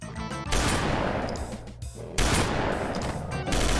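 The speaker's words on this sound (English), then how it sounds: "Mars Super has a cool fire too. In the sense it fires 3 shots and a burst." Mars Super weapon from a Doom 2 mod firing, loud dense blasts in two long bursts separated by a short dip, close and harsh with no talk.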